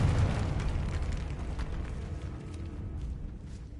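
A heavy, rumbling blast from a Confringo spell in Hogwarts Legacy destroys a barricade across an archway, a loud, sustained explosion that slowly trails off.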